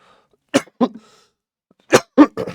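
A man coughs in harsh bursts, a pair of close coughs followed after a pause by three more, loud and near in an otherwise quiet room during a chemistry lesson.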